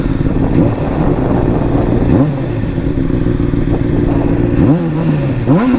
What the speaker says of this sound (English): Let me give you guys a rev.